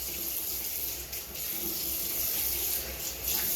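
Hot tap water running and splashing during a head shave, a steady close broadband rush of flowing water with brief dips as it is thrown over the head.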